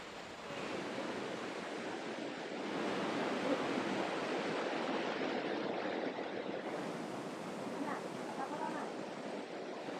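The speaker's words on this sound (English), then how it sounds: "I hope I can talk loud enough to overwhelm the noises of the waterfall" Steady, loud broadband rush of a tall waterfall in Malaysia, continuous and close throughout with no breaks.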